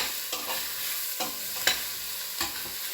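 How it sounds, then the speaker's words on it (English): Peppers and meat for a one-pot chili are stirred in a pot over medium heat, with a steady sizzle broken by spoon scrapes every second or so, moderately close and with no talk. "Again, another 5 minutes on medium heat, medium to medium high. Constantly stirring so nothing burns."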